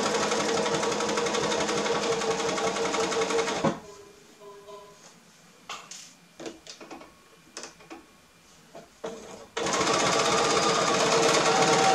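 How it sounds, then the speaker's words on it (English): A sewing machine runs a quarter-inch lock-stitch seam around a quilted Christmas stocking, a loud fast mechanical whir that stops for a few seconds of small handling clicks and then starts up again. "So I'm going to start with a lock stitch, and I'm going to sew a 1/4 inch seam all the way around."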